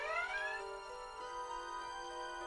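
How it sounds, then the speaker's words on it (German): A red alert alarm sounds in the Star Trek Starfleet Academy video game as a faint, steady, electronic warbling tone with rising harmonics, holding continuously without voices. "Alarmstufe rot."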